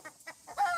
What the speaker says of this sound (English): I think we might have another hen laying an egg.